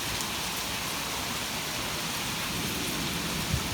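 Steady rain falls during a severe warned storm with pea-size hail, a dense, even hiss of drops on surfaces throughout, with no distinct hail strikes or voices standing out.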